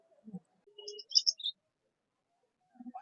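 Birds call at the Tongi bird and animal market during a rain pause, with a few short high chirps and tweets and a brief low coo-like note, spaced apart and fairly close, with no talking.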